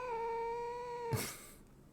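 A cat gives one sustained, tonal yowl that ends in a brief rough burst at night indoors, loud and close.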